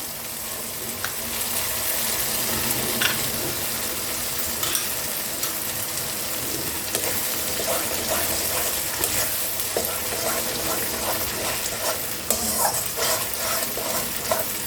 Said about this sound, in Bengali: আমার মশলাটা পুরো ভাজা হয়ে গেছে, দেখুন পেঁয়াজ আর এই পেস্টটা